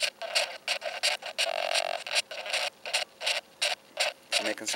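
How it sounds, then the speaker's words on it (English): A phone's electromagnetic signal, picked up by an experimental EMF microphone amplifier, comes through as choppy bursts of buzzy electronic noise. The pulses are short and irregular, separated by brief gaps, close and fairly quiet, with no talking. "Now what you're hearing is not the phone, but the electromagnetic signal being sent to the speaker in the phone, being translated back into sound"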